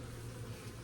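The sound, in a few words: bees buzzing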